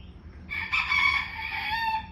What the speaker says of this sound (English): Rooster is interrupting our interview.